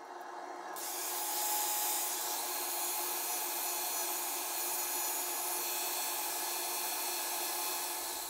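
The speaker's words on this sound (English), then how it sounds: "It is a random orbit sander" A Bosch random orbit sander runs on an apple wood bowl, a steady loud whirring hiss that swells within the first second and holds evenly, alone with no talk.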